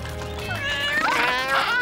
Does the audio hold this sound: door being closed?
no